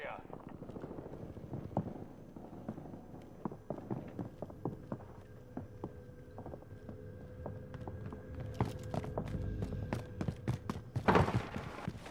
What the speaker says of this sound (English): just listen to how loud I've got the footsteps